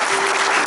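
Congregation clapping during a church service, a brief dense burst of applause filling the space with a faint sustained tone running beneath it.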